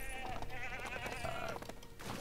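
A sheep bleats in the video game LEGO The Hobbit, a wavering nasal cry heard clearly over busy game music and effects, close and moderately loud.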